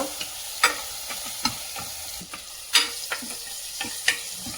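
Tomato browning in a pan of frying onion and turmeric for avarekalu saaru, with a low continuous sizzle broken by sharp ticks and scrapes as a spoon stirs the mixture at an uneven pace.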